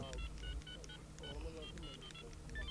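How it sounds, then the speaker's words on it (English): Telephone keypad tones beep in short bursts as a number is dialed, several brief dual-tone presses in quick succession, heard over low background rumble and faint talk. "Hold on, I'm gonna make a phone call, I'm gonna let you know too."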